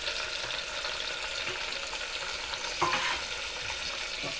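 Tomatoes sautéing and being stirred in a pan for a drumstick-leaf dish, a steady close frying hiss with a brief louder scrape of the spoon midway, no voices.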